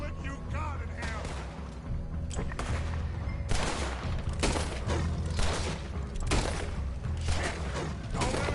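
Gunfire in the video game Red Dead Redemption 2: a dense fusillade of repeated shots in rapid bursts throughout, over a continuous low rumble, with voices talking in the mix.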